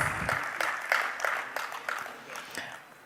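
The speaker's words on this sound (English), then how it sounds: "Let's encourage him with a warmer round of applause" A conference audience at a panel discussion claps in a short burst of scattered, fairly close handclaps, individual claps distinct rather than a dense roar, thinning and fading out over a few seconds.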